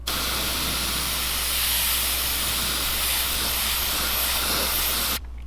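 Spray paint hisses from an aerosol can onto a lipless crankbait lure in one long, continuous, close burst that lasts about five seconds before cutting off abruptly.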